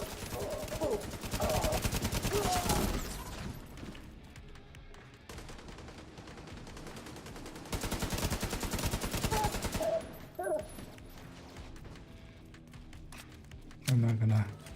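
Rapid bursts of RPK machine gun fire in The Division, loud and close in two long volleys with scattered shots between, mixed with game effects while a player talks over it.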